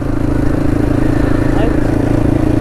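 A dirt bike motorcycle engine drones steadily and close at an even pitch throughout, as if running while being ridden, with no clear revving peaks.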